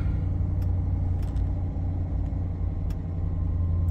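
A 2022 C8 Corvette with a transmission fault sits idling after starting, a steady low rumble with faint clicks on top, close and even throughout; no one speaks.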